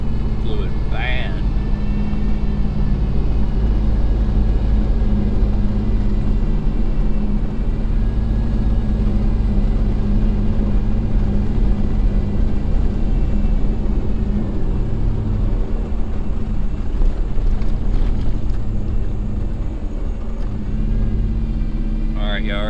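A 5.3 LS V8 swapped into a Chevy S-10 truck rumbles heavily and continuously at close range throughout, with a deep low-end drone and a voice speaking over it at times.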